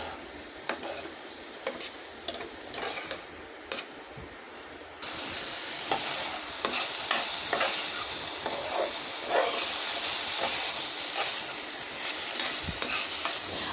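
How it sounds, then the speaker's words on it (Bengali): Potatoes sauté in a pan of spiced masala, first with scattered scraping stir clicks, then a louder, steady close sizzle and hiss that runs alone to the end. "আলুটা কষে আসছে দিয়ে দিচ্ছি"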